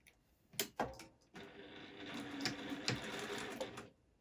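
A Juki sewing machine stitches a chin seam on a fabric face mask, opening with a few quick separate clicks and short bursts, then running in a steady, fairly quiet whir for a few seconds.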